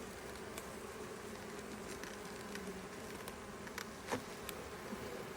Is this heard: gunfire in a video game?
no